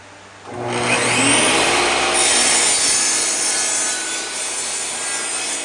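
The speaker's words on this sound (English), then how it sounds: "we're going to run it through the saw" A saw cuts a bevel through a wood workpiece. The blade starts biting after a quiet half second, then a loud, continuous rasping roar runs to the end with a slight dip near the close.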